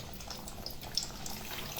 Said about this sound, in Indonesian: Oh, langsung digoreng ya.